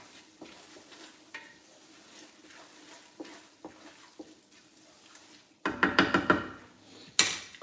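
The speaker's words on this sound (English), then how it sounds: "That's the pop we like right there. Did y'all hear that? That stir pop." Thick homemade spaghetti sauce simmering in a pot gives soft scattered pops and gentle stirring, then louder bursts of thick bubbling and spattering near the end.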